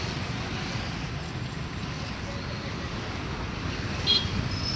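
Steady street traffic on Kampala Road, a continuous low rumble of cars and motors close by, with a brief brighter passing sound near the end.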